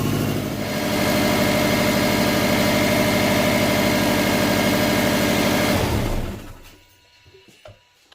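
A Subaru 2.5L engine idles steadily with a low, even rumble while coolant is bled, then cuts off and fades to near silence with a few faint clicks.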